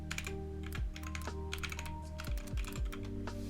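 Computer keyboard typing of a network name, a quick run of close, crisp key clicks with brief pauses between bursts.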